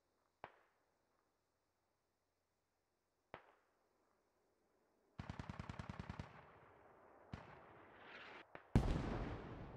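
Mortar fire in the video game Squad, with a few isolated distant thumps followed by a rapid burst of sharp repeated blasts and heavier booming impacts toward the end, loud and without talk.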